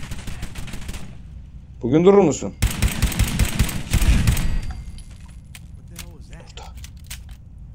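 Video game gunfire from Fallout 4 crackles in bursts through the clip, with a loud cluster of shots in the middle and sparser pops toward the end, while someone talks over it.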